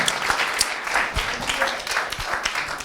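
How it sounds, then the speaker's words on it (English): Congregation clapping in a church service: dense, steady applause from many hands filling the room, moderately loud, with a few sharper individual claps standing out. "You're stingy even in your clapping."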